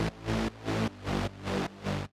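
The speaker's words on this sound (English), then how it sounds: "So for the bass layer, which sounds like this," A Serum synth bass layer for a trance track, built from two default-shaped oscillators with 16-voice unison: five evenly pulsing, thick sustained notes in a steady rhythm, each swelling and cutting off, clean and alone.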